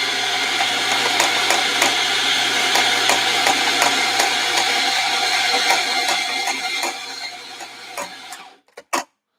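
An espresso machine with a doser-type grinder setup pulls a shot, giving a steady loud buzzing pump hum with faint ticking that runs for about eight seconds, then stops and leaves a few small clicks.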